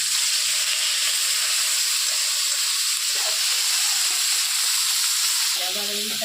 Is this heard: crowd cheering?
no